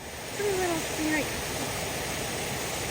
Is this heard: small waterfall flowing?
yes